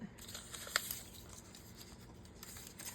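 Paper pieces being fussy cut with scissors for a junk journal, quiet close snips and faint rustling of paper.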